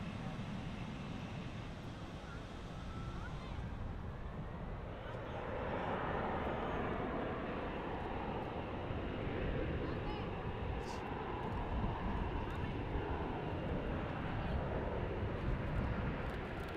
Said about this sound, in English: there's our Dreamliner.